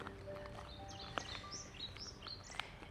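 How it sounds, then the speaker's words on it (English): Birds chirping and calling outdoors near Wenngarn Castle in Sweden on a sunny day, several short rising tweets scattered across a quiet background, faint and somewhat distant. "The birds are singing."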